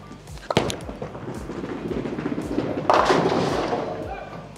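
Bowling ball rolling down a lane with a steady rumble, then a sharp crash into the pins, heard from a short distance in a busy alley with background noise.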